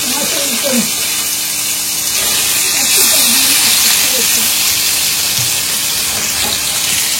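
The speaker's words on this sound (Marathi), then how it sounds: "तेल टाकलं आणि त्याला दोन्ही बाजूला आपण पलटी करून घेणार आहोत, कारण दुसऱ्या साईडने पण ती फ्राय झाली पाहिजे" Fish frying in oil in a pan while cooking village style, a steady close sizzling hiss running throughout with a few faint background voices.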